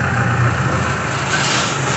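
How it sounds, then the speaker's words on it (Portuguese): Tractor rolling past on a rural road beside an orchid nursery, a steady low engine drone at close range that holds evenly throughout with no voices. "Só vou esperar passar o trator aqui na frente."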